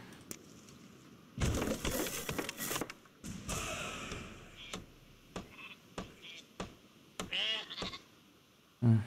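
Sheep bleat repeatedly in the strategy video game Northgard, with several wavering cries scattered among clicks and game effects, moderately close and with no speech.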